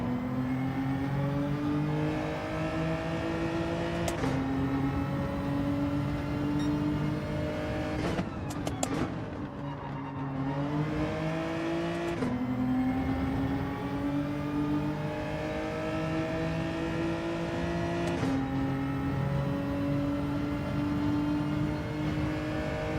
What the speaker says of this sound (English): I'm pretty sure you rev this out